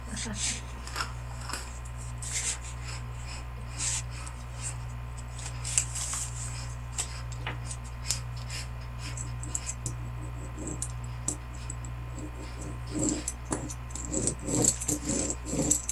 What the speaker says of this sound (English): So that's the tape under there that I'm scraping the paint off.